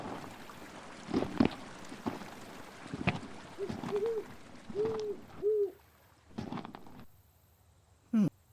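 Synthetic owl hoots in the VR Colossal Cave forest game area: a few short, clear two-note calls repeating at a moderate pace, with soft ambient forest tones and occasional game effects around them.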